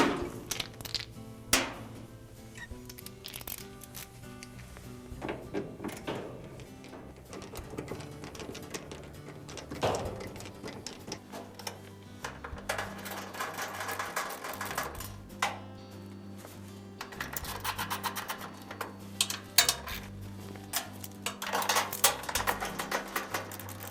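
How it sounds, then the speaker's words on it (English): A power driver removes quarter-inch hex head screws from the blower housing of a Maytag dryer: short whirring bursts repeat over about twenty seconds, mixed with metallic clicks and clunks from the panel, close and fairly quiet. "Next, we need to remove the 1/4-inch hex head screws that are all around the front of the blower housing."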